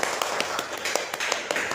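An audience claps for a student at a school presentation, a short patter of scattered, sharp hand claps that come in uneven bursts.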